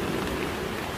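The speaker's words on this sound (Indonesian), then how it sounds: "Hujan deras, men." Heavy rain pours steadily at a family campsite with strong wind, a dense unbroken hiss close by with no voices.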